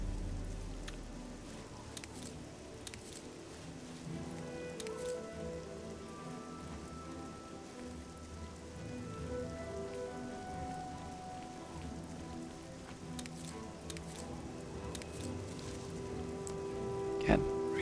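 Steady rain patters down in The Elder Scrolls IV: Oblivion as a continuous soft hiss, with faint musical tones underneath and no spoken words.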